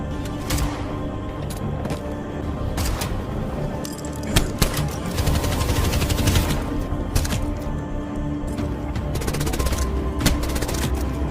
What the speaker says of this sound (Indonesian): Danny sebagai penembak jitu dapat dengan mudah menghabisi dua pengawal Pauli dengan sebuah tembakan tepat di kepala mereka.